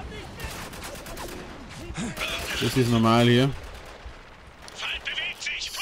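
Rapid bursts of gunfire in the video game Spec Ops: The Line crack through the mix, with a loud stretch in the middle, while someone speaks briefly in German over the shooting.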